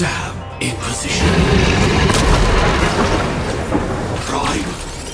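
Detonation explosion in the video game Honkai: Star Rail, a loud sustained boom with crackling bursts layered under battle music and game effects, lasting several seconds.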